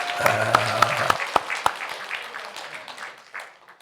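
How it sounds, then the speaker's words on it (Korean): A church congregation at a Sunday service claps for a young boy, a brief burst of applause that thins out quickly, with a sustained musical tone underneath at the start and a few scattered claps trailing off. "우리 근호 위해서 한번 박수."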